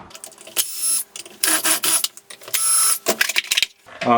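Screws being undone on the air filter cover of a Holzfforma G288 chainsaw, a close series of loud whirring bursts from a powered driver, each a second or so long with brief pauses, ending in a clatter.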